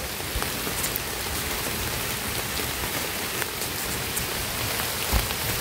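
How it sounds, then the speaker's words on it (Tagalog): Heavy rain pours outdoors at a remote camp, making a dense, steady hiss of drops with scattered sharper patters close by. It stays constant throughout, with no voices. "Basa na yung kamera natin kasi lakas ng ulan."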